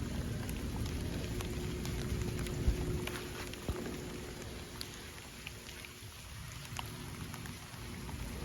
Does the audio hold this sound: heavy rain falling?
yes